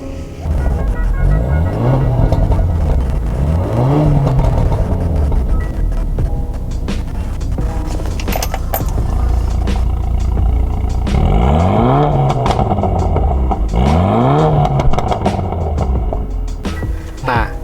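A remapped car engine revs repeatedly through a modified exhaust, loud and throaty, rising and falling in pitch several times over a constant rumbling idle.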